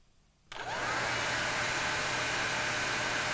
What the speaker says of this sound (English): I might need to turn this fan off for real.